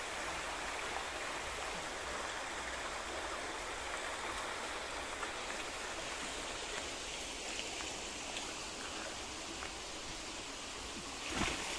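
Water flows steadily in a clear stream below a waterfall at Lupungutu near Chaibasa, a constant broadband rushing and babbling that stays even throughout, with a brief splash near the end.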